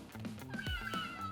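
A cat meows in a quiz setting, a single clear, fairly close mew with a rising then falling pitch, heard alone against a quiet room tone.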